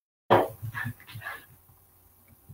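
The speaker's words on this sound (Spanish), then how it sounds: "I have the dogs here with me. Están jugando aquí conmigo y se oyen mucho." Dogs playing indoors give a few short, close barks and yips in a quick burst that trails off into quiet shuffling.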